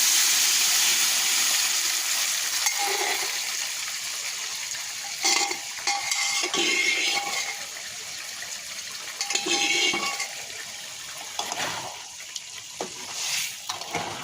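Fried onion and garlic tempering is stirred into boiled vegetables in a pan. A steady, loud sizzling hiss runs throughout, broken by repeated scraping stirring strokes.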